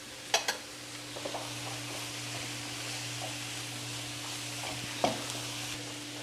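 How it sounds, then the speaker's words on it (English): Three vegetables frying together in a pan over very high heat, giving a continuous even sizzle with a couple of stirring clinks early on and another knock near the end. "So this will be frying all together, all these three vegetables, until they're nice and soft"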